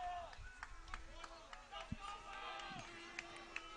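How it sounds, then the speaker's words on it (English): Spectators at a Des Moines Roosevelt versus Ames high school baseball game cheer and clap from a distance, a loose murmur of crowd noise with scattered shouts and claps, while announcers talk over it. "Roosevelt crowd getting into it."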